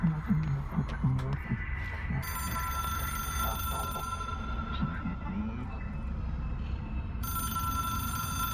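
Within the video game Control, the Hotline phone rings in bursts of bright, electronic-sounding tones, starting partway through and returning near the end, with speech and other game sounds underneath.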